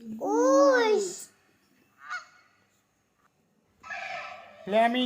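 A goose gives a loud, close honk, followed by a short quieter call and a pause, then another strong honking burst at the end.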